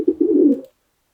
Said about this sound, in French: la nuée de pigeon va te déranger et tu vas tomber